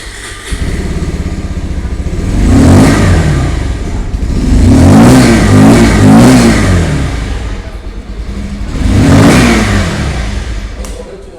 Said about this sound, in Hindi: 150 की जो एग्जॉस्ट साउंड है ट्विन डिस्क की वो भी हम लोग यहाँ पर सुन लेते हैं।